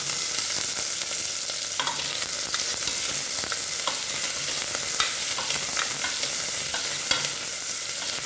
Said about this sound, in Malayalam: നമുക്ക് നല്ലപോലെ ഒന്ന് മിക്സ് ആക്കി കൊടുക്കാം